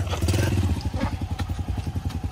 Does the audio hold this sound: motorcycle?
yes